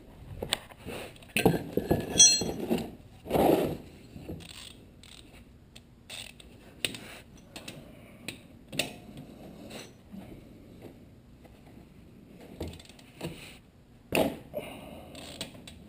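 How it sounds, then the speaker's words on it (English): Ratchet clicks and metallic clinks while loosening the oil drain bolt on a 2005 Honda VTX 1300R, a few bursts of close mechanical clatter separated by quieter pauses, with no talking. "Break the bolt loose, use your hand."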